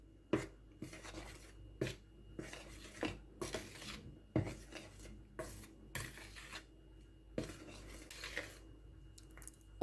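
Cookie dough with powdered sugar, baking powder and vanilla being stirred in a bowl, heard as repeated close scraping and rubbing strokes with pauses between them.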